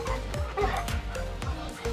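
Puppies at a family home in Dauin, Philippines yip, bark and whimper in quick overlapping bursts, close by, with faint voices in the background.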